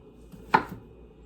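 A single crisp knife chop on a cutting board, close and distinct against a quiet kitchen background.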